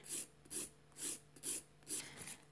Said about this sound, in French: Donc on lime tout doucement.